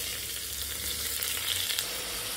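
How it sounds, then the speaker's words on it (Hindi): Rice and dal frying in ghee with ginger and green chili for pongal, a steady close sizzle with faint stirring, no voices. "इसको भी थोड़ा घी के साथ और जिंजर मिर्ची के साथ इसको अच्छे से थोड़ा फ्राई कर लेंगे"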